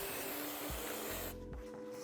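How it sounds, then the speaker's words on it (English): Aerosol cleaner sprayed onto an oily WP PDS rear shock part outdoors, a steady close hiss for over a second before it cuts off, leaving a quieter background with faint handling noises. "Spraying this outside off too because it's super oily"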